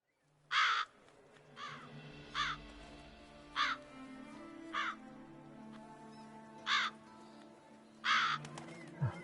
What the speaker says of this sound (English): Bunch of crows at his place.